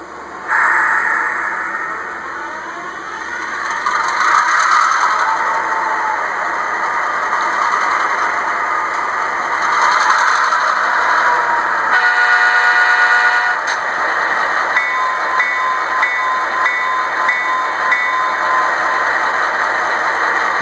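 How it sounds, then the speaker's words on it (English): An HO-scale GP38-2 model locomotive fitted with a Tsunami sound decoder and a tiny sugar cube speaker rumbles steadily at idle, then sounds several bright horn blasts, closing with a run of short, pulsing horn toots. "I put a Tsunami sound in it with an ESU sugar cube speaker"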